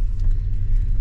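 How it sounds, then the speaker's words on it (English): Steady low road rumble inside a moving car on a long drive home through New Mexico toward Albuquerque, a constant engine and tire drone filling the cabin with no talk over it. "I'm back in the car and we are heading home."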